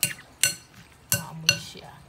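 Fresh salsa stirred in a bowl with a utensil, four sharp clinks and scrapes against the bowl at uneven intervals, close and fairly quiet, with faint background murmur.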